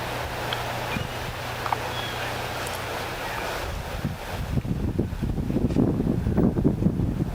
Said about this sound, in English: That wind continues to swirl